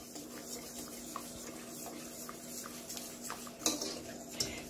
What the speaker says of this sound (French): Je vais bien mélanger, ça va nous donner une sauce crémeuse.